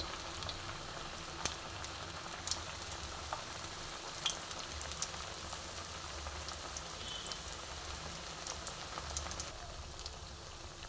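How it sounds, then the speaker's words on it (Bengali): Rice and vegetable cheese chops frying in a pan over a very low gas flame, giving a steady, even crackling sizzle throughout with tiny pops scattered across it and no voices. "আমি আস্তে আস্তে নিবু আসে ভাজবো হ্যাঁ, বন্ধুরা তাহলে এক পিট ভাজা হোক"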